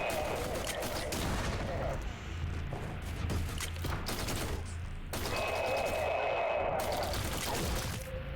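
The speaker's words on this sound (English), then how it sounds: "This assault rifle is really powerful." An assault rifle fires in Forgive Me Father 2, a dense, loud stream of automatic gunfire and crashing impacts that runs almost without a break, with a short pause before it resumes.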